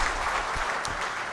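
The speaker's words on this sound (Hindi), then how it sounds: "जोरदार तालियां सर के लिए" Audience applause at an official address by a development commissioner, dense sustained clapping filling the hall for a short burst.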